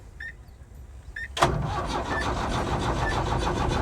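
A Tata 1109 BS3 truck's diesel engine, which has a faulty flywheel RPM sensor, cranks briefly after a couple of faint beeps, then catches and settles into a loud, steady, rhythmic idle close by.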